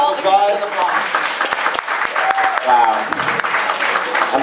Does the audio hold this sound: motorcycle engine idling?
no